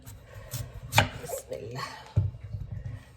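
A papaya being cut with a knife at home, with several close, dull chopping thuds and slicing scrapes at an uneven pace, and people talking in the background.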